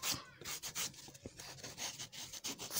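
A file rasps along the edges of a leather shoe insole in quick, repeated close strokes with a dry scraping texture and no voices.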